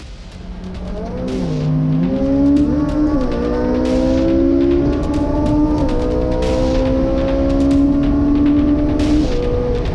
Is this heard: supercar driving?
yes